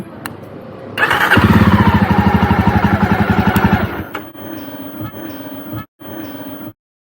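A Royal Enfield Classic 350 BS6 motorcycle engine thumps loudly and steadily at close range for about three seconds, then cuts out, leaving a quieter humming and ticking that stops in short bursts.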